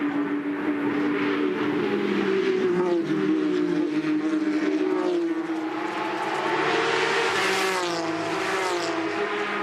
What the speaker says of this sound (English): Never get sick of listening to that 6-cylinder engine.